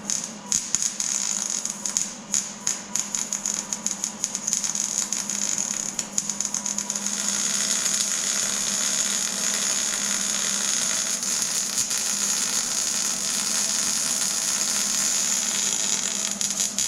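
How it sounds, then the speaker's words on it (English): Welding on the floor pan of a 1957 Chevy, a steady close buzzing crackle that starts in short bursts and then runs continuously and loud. "So I'm going to start welding on here."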